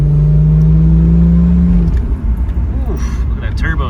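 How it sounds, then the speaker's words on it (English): A 1991 JDM Toyota Supra turbo accelerating from inside the car: a loud, steady engine drone holds for about two seconds, then breaks into a rougher, fluttering rumble as the revs change. "look at that turbo spool"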